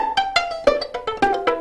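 Fast violin pizzicato, the right hand plucking and the left hand flicking the strings, giving a quick run of about eight sharp plucked notes, close and clear with no voices.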